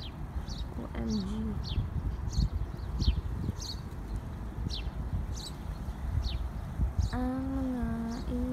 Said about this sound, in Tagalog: Ang mga ibon.